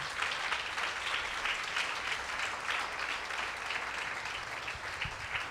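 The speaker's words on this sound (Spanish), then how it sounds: "Dale ese fuerte aplauso a Jesús" A church congregation applauding together, a dense, steady wash of many hands clapping heard at a moderate distance and sustained throughout without voices over it.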